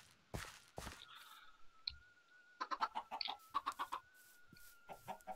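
Chickens cluck on a Minecraft-style video game farm, a run of short clucks in quick succession over a thin sustained tone, with a few scattered bumps and clicks around them.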